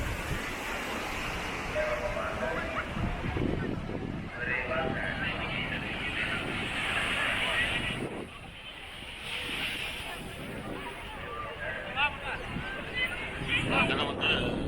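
Strong wind buffets the microphone at the Tiruchendur Murugan temple near the Yali well, a loud continuous roar that dips briefly midway, with someone talking over it.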